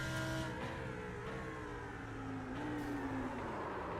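Race cars in a sim racing game, a loud continuous engine whine with rising and falling pitch as several cars drive close together.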